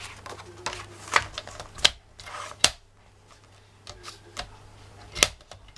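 Scissors cut paper for a handmade thank-you card, a few short crisp snips spaced irregularly, close and fairly quiet in a calm room.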